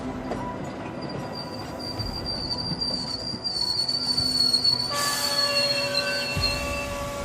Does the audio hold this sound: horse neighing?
no